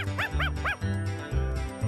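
A cartoon dog barks three times in quick rhythmic yips near the start, over a layered animated soundtrack with music and low tones continuing after the barks.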